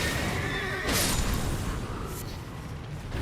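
A horse whinnies in the Elden Ring game world, a single mid-level neigh over a busy ambient game background with a brief whoosh partway through.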